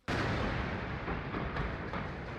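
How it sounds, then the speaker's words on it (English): Iron Dome missile defense intercepting rockets over Israel, a sudden loud onset into a continuous rumbling roar of explosions and booms that stays dense and heavy to the end. "Israel's Iron Dome missile defense system intercepting thousands of Hamas-fired rockets"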